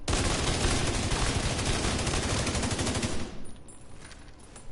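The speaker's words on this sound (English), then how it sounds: "just shoot it a couple times" Rapid automatic gunfire from the video game The Division 2 rattles in a loud, dense stream for about three seconds, then breaks off into a quieter tail with faint scattered echoes.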